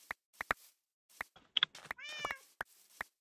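A cat meowing in the Minecraft video game, a string of short, clear meows spaced irregularly and sounding close, with one longer drawn-out wavering meow in the middle.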